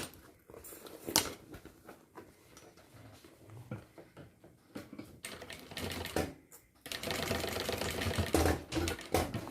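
A sewing machine stitches a zipper onto a retro backpack in short bursts of rapid mechanical clatter, pausing between runs, close and fairly quiet, with a longer steady run near the end.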